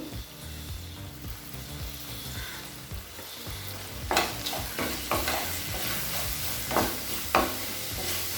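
Tomatoes with salt, turmeric and chili powder being stirred and sautéed in a pan for a ridge gourd chutney, with steady frying sizzle and sharper scrapes and clatters of the spoon about halfway through.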